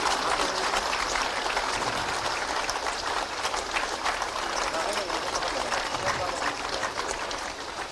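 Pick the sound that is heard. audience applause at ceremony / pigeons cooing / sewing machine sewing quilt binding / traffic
audience applause at ceremony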